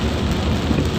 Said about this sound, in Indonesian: kondisi Pekanbaru saat ini sedang diguyur hujan sejak pukul 7 pagi